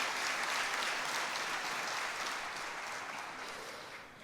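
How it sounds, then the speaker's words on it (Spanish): An audience at a church panel event gives a warm welcoming round of applause, dense, continuous clapping that fills the room and eases off slightly toward the end. "la bienvenida con un caluroso aplauso"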